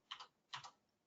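Two short bursts of keystrokes on a computer keyboard, close and fairly quiet, with a brief pause between them and no talking.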